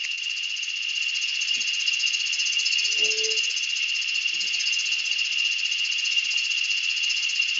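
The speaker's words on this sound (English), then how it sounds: "Probably hearing the cicadas," Cicadas keep up a steady, even high-pitched buzz through an outdoor morning, with a short birdlike coo and a few soft faint knocks in the quiet beneath it.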